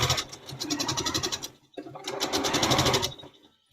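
A sewing machine stitches quilting fabric in two rapid, rhythmic runs of needle chatter, pausing briefly between them, close and fairly loud with no talking.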